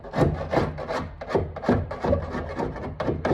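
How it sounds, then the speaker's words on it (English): A scraper rasps back and forth over black sealer inside a car wheel arch during patch panel replacement, a close, steady run of gritty strokes about every third of a second with no talk. "scrape it all off around there, make sure it's nice and like clean."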